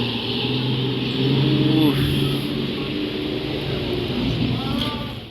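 A Mercedes-Benz OH 1521 diesel bus engine rumbles steadily nearby with a deep, throaty drone, rising slightly in pitch midway as it revs, a faint voice underneath.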